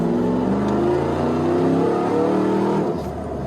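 A steady, deep engine and exhaust drone from a supercharged 416 kW Nissan Patrol Y62 under way, loud and continuous, easing off slightly near the end.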